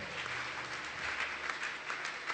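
A church congregation claps during a morning service, steady dense applause heard from a distance, faint and continuous, with a low murmur beneath.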